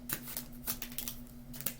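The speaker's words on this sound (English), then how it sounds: "let's get one more shuffle here for the sign of Sagittarius" A deck of tarot cards is shuffled by hand during a card reading, giving a handful of crisp, papery flicks and snaps at an uneven pace. It is fairly quiet and close, over a faint steady hum, with no talking.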